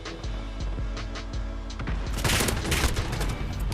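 A PKM machine gun fires in Modern Warfare in several close bursts. At first the rounds are spaced out, then they blur into a loud, dense rattle of rapid shots over a game background.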